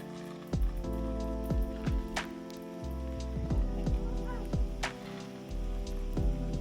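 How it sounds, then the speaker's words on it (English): Steady rain falls on a surface with a dense, even patter, and brief faint sounds mixed in. "Ooh, rain."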